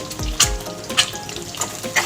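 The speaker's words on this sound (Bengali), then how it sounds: "খুব হালকা হালকা করে ভেজে নেবো।" Egg seasoned with salt and turmeric frying in mustard oil, a close, steady sizzle broken by a few quick scraping stirs.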